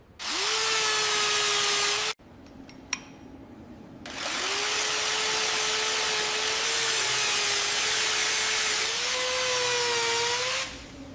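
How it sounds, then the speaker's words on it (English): Power tool with a steady, loud whine cuts out rust on a BMW X2 M35i body, stopping briefly once and then resuming with a shifting pitch before winding down. "We need to cut out all this rust."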